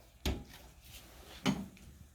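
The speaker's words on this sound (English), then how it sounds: "Then you're going to go over to the laundrometer, open the door," Door of a Launder-Ometer laundering machine in a textile lab, opened with two distinct thuds and clunks about a second apart, fairly quiet in a still room.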